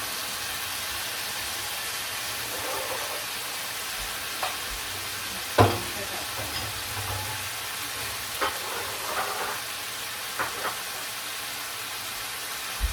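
Red and green sweet peppers fry in a pan with a low, steady sizzle, marked by one loud clatter and a few soft stirring scrapes.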